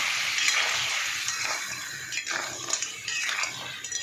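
Potatoes frying in oil with salt, turmeric and chili paste, a soft continuous sizzle with intermittent stirring scrapes in a pan, fairly quiet and close.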